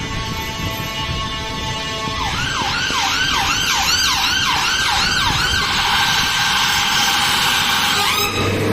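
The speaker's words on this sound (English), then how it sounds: "the ambulance went past" An ambulance siren wails in a rapid, rising-and-falling cycle on a Nottingham street, loud and close over traffic noise, then switches to a steadier tone and fades out near the end.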